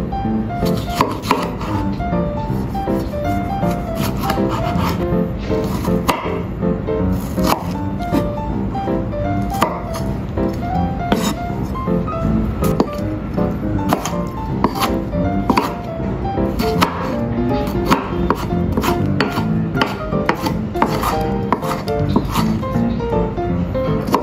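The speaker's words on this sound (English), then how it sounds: "Chopped tomatoes." Tomatoes being chopped on a wooden board, with rapid, steady knife strikes that continue throughout and are close and distinct over a bed of background music.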